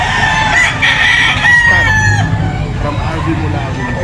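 A stag, a young gamecock of the Kelso line, crows loudly close by, then clucks, while someone talks over it.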